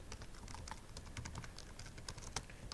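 Fast, steady clicking of computer keyboard typing while a command is entered, close and moderately quiet, with irregular keystroke bursts and no talking.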